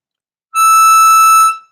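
A single sustained blow note on hole 8 of a diatonic harmonica, bright and reedy with a slight wavering pulse, held for about a second with no voice over it.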